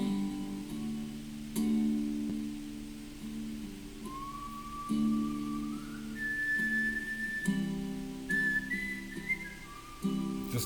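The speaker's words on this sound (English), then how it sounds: "Just the whistle." A lone person whistles the opening melody of a song, a clear sliding tune of held and rising notes over soft guitar in an empty bar, with no talk.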